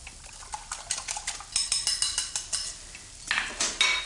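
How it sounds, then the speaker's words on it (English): Eggs whisked in a bowl with a fork or whisk, giving a quick run of close, light clinking taps against the bowl that come in bursts with short pauses. "So whisk these together, just whisk to mix."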